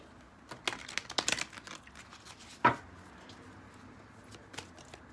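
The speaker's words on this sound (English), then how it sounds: "Give a couple shuffles." Tarot cards shuffled by hand, heard as a few quick bursts of papery riffling and tapping, then a sharper slap and a lighter flutter near the end, close up and fairly quiet with no talking.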